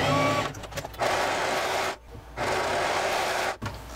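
Sewing machine stitching the shoulder seams of a garment, a steady close whirring run that stops briefly twice and resumes, with no talk over it.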